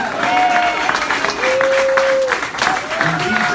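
Audience applause at a book launch event, a steady wash of clapping with a few voices and brief whistle-like tones mixed in, filling the room.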